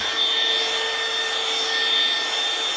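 A loud vacuum cleaner drones without pause while cleaning a balcony floor, its steady whine and airy roar close and constant throughout, with no voices over it.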